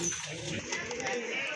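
Red Rajgolla pigeons cooing at close range in a loft, a soft, steady murmur of low coos running continuously under faint background noise.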